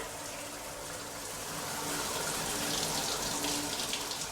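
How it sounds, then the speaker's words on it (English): Water from a hotel shower in Venice runs in a steady, full hiss that builds slightly after the first seconds and stays strong, with faint background sounds underneath. "Great shower pressure."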